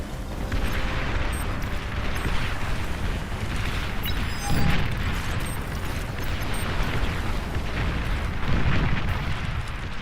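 Huge enemy commander unit destroyed in a sixteen-player strategy video game, heard as a sustained, dense roar of explosions and rumbling booms that swell and recede across the whole stretch, with no talk.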